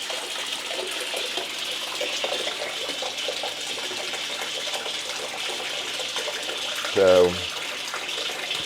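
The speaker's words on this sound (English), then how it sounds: "turn the faucet on." Water runs steadily from a camping faucet fed by an onboard water pump, a continuous close hiss and gush lasting throughout, with a single brief spoken word near the end.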